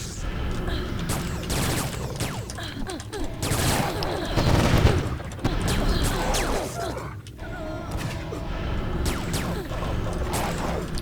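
Video game gunfire in Anarchy Online: dense, rapid volleys of shots and booms rattle continuously throughout, mixed with mechanical clanks and a voice talking over the action.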